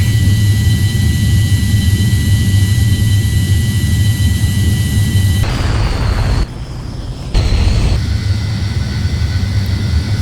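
A simulated Avro Vulcan jet bomber takes off in a continuous loud engine roar with a steady whine, briefly dropping off before the roar resumes.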